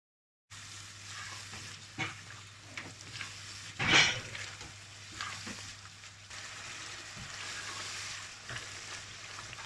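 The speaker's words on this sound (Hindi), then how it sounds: "मसाला इधर से 1 मिनट हो गया। इसको मैंने अच्छे से इधर भून लिया।" Red chilli and turmeric masala fries in a pan, a quiet steady sizzle with a sharp scrape of a utensil near the middle and scattered soft stirring knocks, no voices.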